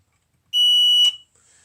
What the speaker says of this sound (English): If the gas alarm detects gas,